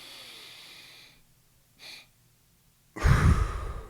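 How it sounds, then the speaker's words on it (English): A close-up demonstration of the double breathing technique: a soft, drawn-out breath, a brief quiet puff partway through, then a loud, forceful breath rushing out at the end, with no talking. "There's another thing called double breathing where you,"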